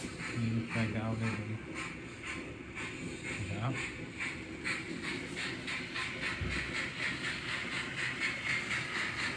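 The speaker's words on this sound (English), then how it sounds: "And then you've got the steam train going." A small Hornby TT120 model steam train chuffs along steadily with hissing steam and rhythmic mechanical clatter, close by, while a voice talks over it.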